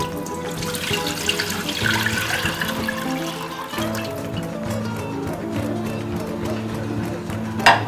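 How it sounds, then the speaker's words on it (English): Chicken broth pours steadily into a pan of seafood paella, a continuous close splashing and trickling of liquid with a brief louder spill near the end. "Pour in the chicken broth."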